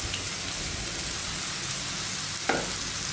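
Soya chunks frying in hot oil in a pan, a steady close sizzle and crackle with a faint tap near the end, no voices.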